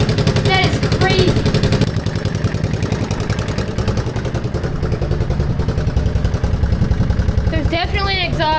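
A banned three-wheeler, started after sitting for eight years, idles with a close, rhythmic, clattery engine pulse throughout, while a voice speaks briefly at the start and again near the end.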